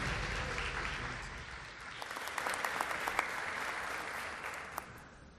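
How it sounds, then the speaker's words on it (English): Hall of fame audience applause at a homecoming athletic awards ceremony for an inductee, a sustained wash of clapping in a large room with a few sharper individual claps standing out, fairly distant and even throughout. "Let's have another big round of applause for Tom."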